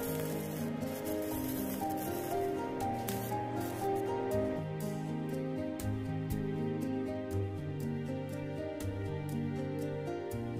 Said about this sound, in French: On écrase le fer par-dessus et on vient couler l'étain tout au long du cuivre.